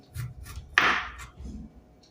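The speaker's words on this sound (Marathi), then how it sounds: "कारली कट करताना थोडीशी तिरपी कट करायची म्हणजे त्याचे चिप्स आहेत ते थोडे लांबट आकाराचे निघतील" A knife slices bitter gourd diagonally into long pieces for chips, giving a single crisp chop on the board amid faint kitchen noise.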